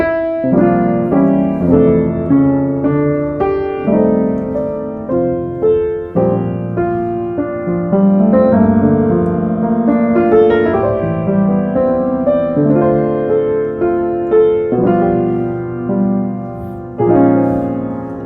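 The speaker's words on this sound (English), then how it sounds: "So all together it sounds like this." Piano plays sustained chords with small melodic runs filling between them, moderately loud and unaccompanied.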